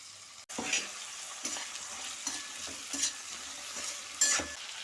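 Potatoes and mixed vegetables frying in a pan for a paneer mix veg curry, a steady sizzle with periodic scraping stirs, moderately close and without talk.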